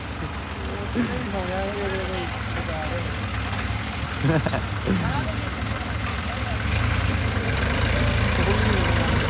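A JCB excavator engine drones steadily in the background, growing louder toward the end, while several people talk and call out over it.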